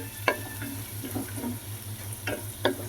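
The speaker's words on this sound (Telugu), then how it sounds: "నూనె బాగా వేడొచ్చేసింది కదా చక్కగా వేయగానే వేగిపోయినాయి" Cumin seeds and garlic frying in well-heated oil, a steady soft sizzle running throughout with a few sharper spatters and occasional stirring scrapes, close up and without any talking.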